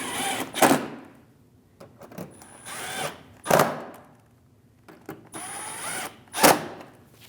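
Power tool snugging down fender liner and bumper cover bolts on a 2016-2025 Chevrolet Malibu 1.5L, several short whirring bursts of about a second each separated by pauses, close and clear.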